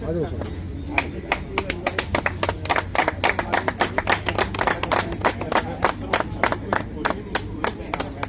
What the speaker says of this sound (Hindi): तालियों की गड़गड़ाहट से आप सीधे तौर पर देख सकते हैं कि आज जंतर मंतर पूरा हुआ है।